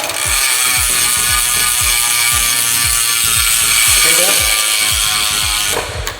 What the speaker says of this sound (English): that noise you can hear, the hub. This bike has a badass Bond Trigger hub.